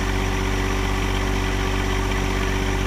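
A John Deere tractor with a backhoe attached idles steadily nearby, its engine a constant, loud, even rumble with no change in pace.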